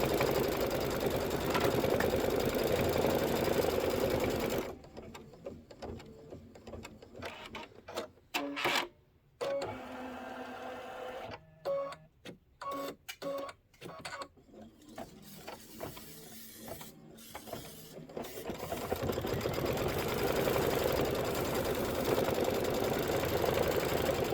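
An embroidery machine stitching a placement line runs with a steady, even mechanical whir at the start and end, broken in the middle by stop-start bursts and pauses.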